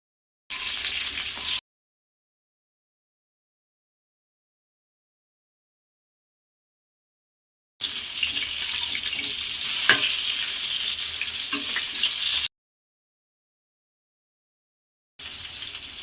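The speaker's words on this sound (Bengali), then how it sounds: "এবার আমি বেগুনগুলোকে ছেড়ে দেব।" Eggplant slices fry in hot oil with little oil in the pan, giving a steady, close, loud sizzle in three separate bursts with silence between them.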